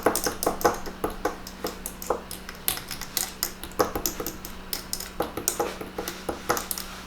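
A spoon stirs a dairy-free drink flavored with turmeric and ginger, clinking repeatedly against the cup in quick, uneven bursts of bright metallic taps, up close with no talking.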